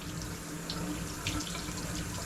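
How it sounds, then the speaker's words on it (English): Water runs steadily from a Kangen water filter tap while fresh mint is rinsed under it, a faint, even hiss and splash of a sink stream with small spatters and no talking. "I'm going to use my Kangen water filter"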